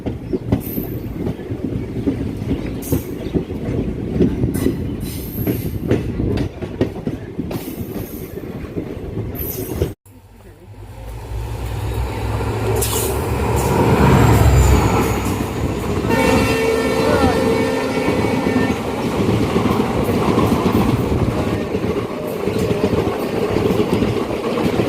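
A train on the Tinsukia–Guwahati line, with the Jan Shatabdi Express overtaking: a loud continuous rumble of wheels and clattering carriages, then a sudden shift to a deeper roaring rush and a passing horn.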